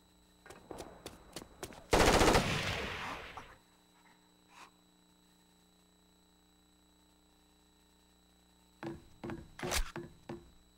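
Gunfire in the video game Rainbow Six Vegas 2: a few sharp shots, then a loud dense burst lasting about two seconds, and a cluster of quick shots near the end, separated by quiet stretches with a steady electronic hum.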